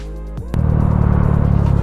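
A Yamaha Mio 160cc motorcycle with a big valve head idles, then its engine jumps abruptly into a loud, throbbing rev that holds steady and close.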